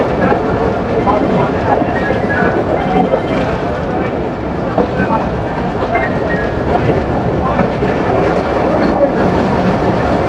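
The Betna Express train rolls into Benapole railway station with a loud, continuous rumble and rattle of carriages, and a voice speaks over the noise.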